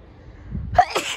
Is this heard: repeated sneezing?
yes